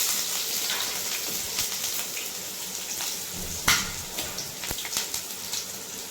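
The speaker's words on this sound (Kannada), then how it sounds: "ಈ ರೀತಿ ಫ್ರೈ ಮಾಡ್ಕೊಳ್ಳಿ ಚೆನ್ನಾಗಿ." Onion frying in hot oil in a pan for moong dal curry, a soft steady sizzle with scattered crackles and small pops, fairly quiet and close, without talk.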